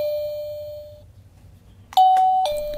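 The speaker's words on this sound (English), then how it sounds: "let's give the doorbell a ring and see how well it works" A self-powered wireless doorbell rings with a clear electronic chime: a sustained tone that fades out, then after a quiet gap a louder two-note ding-dong. No talking is heard.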